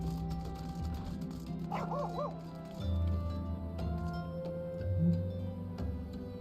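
A dog in Final Fantasy XIV gives a short series of yips and barks over a steady game music bed, small and mid-distance rather than loud.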